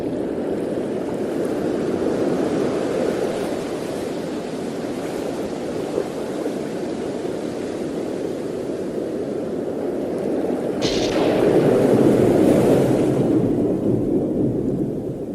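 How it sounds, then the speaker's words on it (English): Stormy ocean waves as a storybook sound effect, a steady loud roar of surf and wind that swells and crashes louder near the end, with no voices. "The river grew wider and became the ocean, and before too long a great storm blew."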